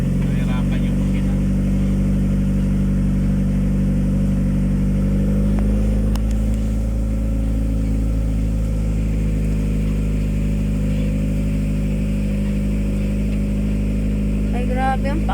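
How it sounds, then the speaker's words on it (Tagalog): A vehicle engine labours steadily in a low gear up a long, steep, muddy hill road, a loud continuous drone close by with occasional voices over it. "Mahirapan yung makina."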